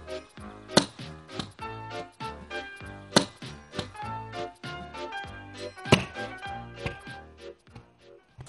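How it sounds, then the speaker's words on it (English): A metal bolt strikes a nut again and again in a nut and bolt test, giving sharp loud irregular thunks and knocks that keep coming with no talk. "We're gonna try hitting it with the bolt."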